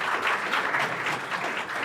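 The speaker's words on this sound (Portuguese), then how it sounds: "palmas pro Sky." An audience at a motorsport fan gathering in São Paulo claps together in a steady, moderately distant burst of applause that continues evenly throughout without voices.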